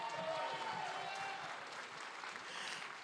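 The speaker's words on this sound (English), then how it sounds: "Give her a round of applause." Faint, steady applause from a church congregation at a Sunday service, a dense wash of clapping heard from a distance with no clear voice over it.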